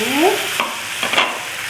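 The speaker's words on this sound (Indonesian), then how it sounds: "Sambil dipanggang, kita terus olesi dengan bumbu oles panggangan." Squid grilling on a hot pan, sizzling steadily and close, with a couple of soft scraping touches as it is brushed with seasoning; a brief squeak sounds at the start.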